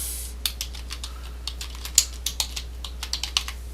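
Computer keyboard keys clack in an irregular string of crisp, close taps as a folder name is entered, one louder keystroke standing out midway, with no voices.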